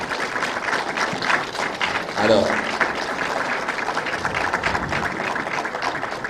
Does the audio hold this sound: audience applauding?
yes